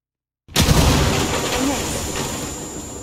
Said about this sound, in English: Throw another bomb.